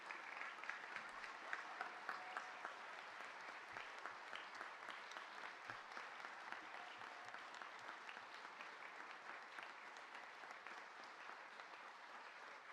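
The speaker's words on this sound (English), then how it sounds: "Larry, Marion, Sue, Kevin, please stand so we can congratulate you, applaud you, and thank you again." The audience at a State of the City address applauds the honored guests as they stand. The clapping is steady, dense and sustained from start to finish, heard from within the crowd.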